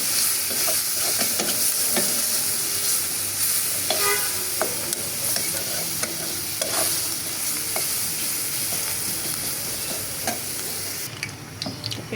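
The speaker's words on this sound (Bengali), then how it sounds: "এখানে ডিম ভুনা করবো, এই জন্য মশলা কষাচ্ছি।" Masala spice paste being stir-fried in a pan for egg bhuna gives a continuous sizzle and hiss, broken by repeated scraping strokes of the spoon, close and steady with no talking.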